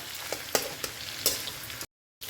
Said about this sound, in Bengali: মাছের মাথাটা দেখো আমার কিন্তু লাল করে ভাজা হয়ে গেছে